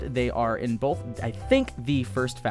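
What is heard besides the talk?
No everyday noise stands out behind the speech.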